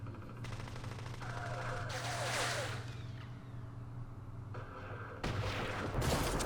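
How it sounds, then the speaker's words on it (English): Gunfire from the Vietnam War strategy game Campaign Series Vietnam, with bursts of shots and explosions crackling over a steady low background hum, growing louder and denser toward the end. "they're shooting at me"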